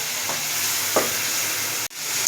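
Spices sizzle steadily in a hot pan for a vegetarian soybean and potato curry, with a couple of brief stirring scrapes cutting through the frying hiss.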